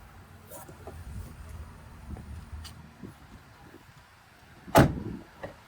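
Car door opened with a solid thunk and rattle during a trade appraisal at a vehicle dealership, one loud close impact after quieter handling noises and soft background sounds.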